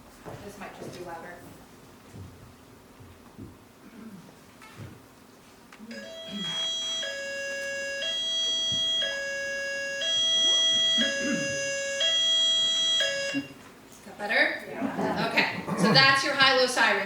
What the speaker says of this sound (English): high-low siren, so we're only gonna use that in an emergency where you need to take action right away.